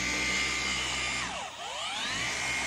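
A forced rotation polisher runs at close range, a steady motor whine that dips briefly in pitch midway as the load changes, then climbs back up, with no talking.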